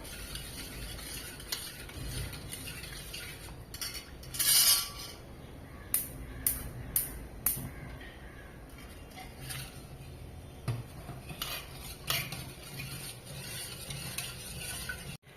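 Rice flour is stirred into milk in a pan, with a soft scraping stir under a light background hiss, broken by several sharp clinks of a spoon against the pan; no talk.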